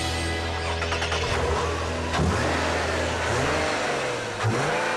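A 2010 Nissan 370Z's 3.7-litre V6 revs up hard and close, sweeping through the rev range in a loud, sustained rise with a couple of sharp blips and drops near the end, heard alone.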